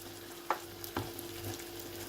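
Spoon stirring pepper paste sauce in a pan, a couple of soft scrapes over a faint, steady sizzle.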